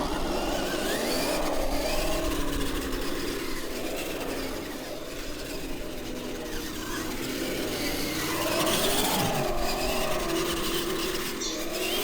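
A Clodbuster RC monster truck with steering on both axles and 20 kilogram servos runs for the first time, its electric motor whining and rising and falling in pitch as it accelerates and slows, steady and close.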